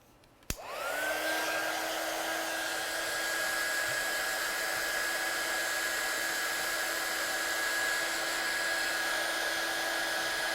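A hair dryer clicks on and runs steadily to dry a watercolour stamped card, a close, loud, even whine with a constant pitch and no voices.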